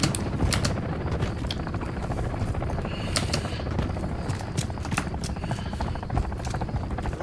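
Helicopter in the video game Call of Duty Modern Warfare III, its rotor a steady, loud, pulsing chop throughout, mixed with scattered sharp gunfire bursts.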